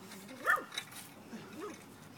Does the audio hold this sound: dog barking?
yes